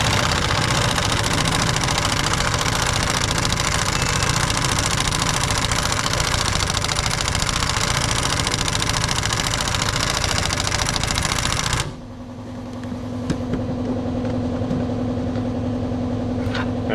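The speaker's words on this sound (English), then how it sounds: "Now the compressor's running." An air compressor runs steadily with a dense, loud mechanical rattle for about twelve seconds, then drops to a quieter hum with a steady tone and occasional clicks.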